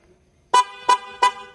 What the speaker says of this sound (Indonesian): kita kasih klakson Hella TE30 Chrome Twin Tone Trumpet Horn